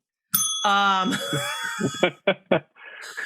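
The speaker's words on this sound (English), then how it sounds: "It seems like this bell is very easy to trigger, Judy." A single bright bell ding rings out as a sound effect on a radio talk show, followed immediately by people talking and laughing.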